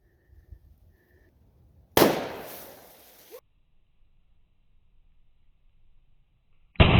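A single loud gunshot from a Ruger Alaskan revolver firing a 45 Colt +P load, a 300-grain Speer jacketed soft point, with a sharp crack that decays over about a second and a half before silence and a second abrupt burst at the end.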